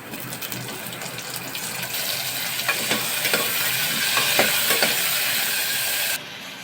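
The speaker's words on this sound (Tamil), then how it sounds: "இப்போ இதை நல்லா வதக்கிக்கலாம்" Loud, steady sizzle of onions and tomatoes sautéing in a pan, with a string of spatula scrapes and stirs in the middle, ending abruptly near the close.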